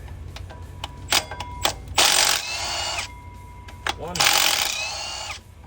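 A ratchet clicks rapidly in two bursts of about a second each while removing bolts during a water pump and thermostat replacement on a 2007 GMC Sierra 4.8L, with scattered taps and a person speaking in between.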